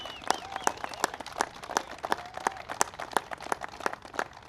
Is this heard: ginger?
no